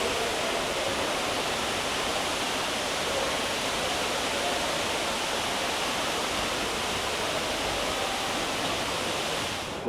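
Waterfall inside the Cloud Forest conservatory in Singapore, a dense, continuous roar of falling water that stays loud and even throughout with no pauses.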